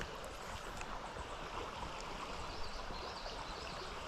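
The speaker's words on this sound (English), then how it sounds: "this fast moving water and it comes down" Fast-moving water rushes through a spring-fed trout creek, a steady broadband wash with no breaks, fairly faint and continuous with no talking.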